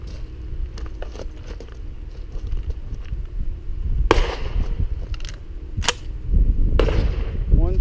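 Sharp, loud shotgun blasts on an outdoor shooting range, three distinct reports spaced a second or two apart over wind and low rumbling handling noise.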